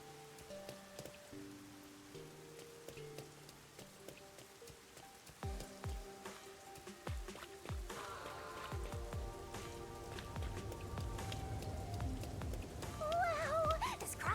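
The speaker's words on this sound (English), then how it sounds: "Bless the red rain." Rain patters steadily in the video game Master Detective Archives: Rain Code, growing heavier toward the end, layered over soft synth music tones and occasional low thuds.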